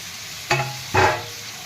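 Chopped vegetables and jujube berries being stirred in masala in a pan for Maharashtrian khengat: two brief, close scraping stir strokes with a light sizzle between them.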